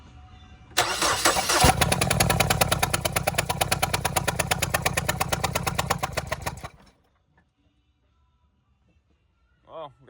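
A 2013 Ford Escape engine cranks on the starter for a compression test, a loud rapid rhythmic chugging that lasts about six seconds and then stops abruptly, leaving near silence and a brief voice at the end.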